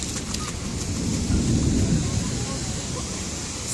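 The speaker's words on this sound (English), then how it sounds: "hopefully once the storm passes we'll be back on the rides and Sophie will be back with you." Thunderstorm over a water park, with a low rolling rumble of thunder swelling and fading over steady hissing rain, all fairly close and continuous.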